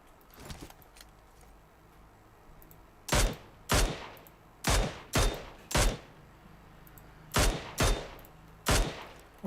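Gunfire in PUBG Mobile, eight loud, punchy shots in an uneven rhythm over a constant background hiss, preceded by a few fainter pops.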